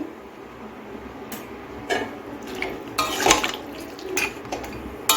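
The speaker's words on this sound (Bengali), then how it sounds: "আমি আরেকটু জল দিয়ে দিচ্ছি" Water poured into a pan of bori, potato and brinjal, with clattering of the pan and utensil knocks in bursts, close by and without speech.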